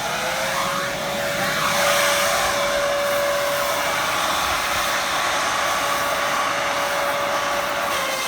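A leaf vacuum roars steadily and loudly while sucking lemongrass out of a garden bed, with a constant droning whine and no voices.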